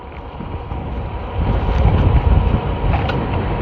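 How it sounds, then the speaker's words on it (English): Tamobyke TB20 e-bike fender rattling steadily while the bike is ridden, a dense, loud rumbling clatter mixed with wind noise that swells midway through the ride. "all that noise you hear is the fender"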